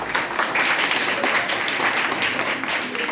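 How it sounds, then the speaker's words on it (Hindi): An audience at a Hindi Diwas event breaks into dense, continuous applause for Tulsidas, many hands clapping at once, steady and fairly loud throughout. "तो तुलसीदास के लिए ताली बजाइए।"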